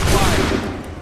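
A musket volley erupts in Assassin's Creed 3 Remastered, a loud burst of many shots at once that rolls off and fades over a second.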